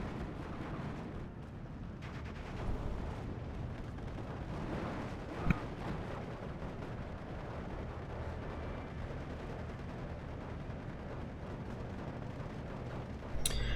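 Rocket artillery strike from a German Wurfgerät launcher in the Steel Division 2 war game, heard as a steady distant rumble of explosions with one sharp blast midway and another burst at the end.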